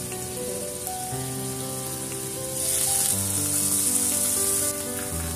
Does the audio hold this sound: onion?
yes